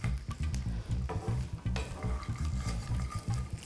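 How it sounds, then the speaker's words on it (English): Peas cook in a pan and are stirred, with a close sizzle and frying hiss broken by repeated scraping stirs over a few seconds; no talk. "So you just keep stirring until you have them all cooked."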